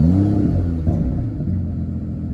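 A 2019 Aston Martin DBS Superleggera engine turning over and settling into a deep, steady low rumble with a brief rise in revs, close and loud with no talking.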